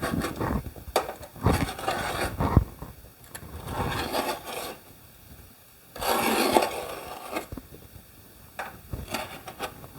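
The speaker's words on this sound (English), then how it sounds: "make sure I score this backsplash pretty good because we're getting a new one" A blade scores along a kitchen countertop backsplash being removed, making intermittent scraping and rasping strokes with knocks and pauses between them, close up with no talking.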